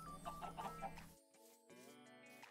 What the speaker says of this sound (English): here is Chicken Island, where all the chickens and a single sheep live.